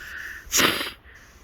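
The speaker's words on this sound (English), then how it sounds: "I've just like sneezed without actually trying to sneeze" A single sharp sneeze bursts out close by, brief and breathy, over a quiet background.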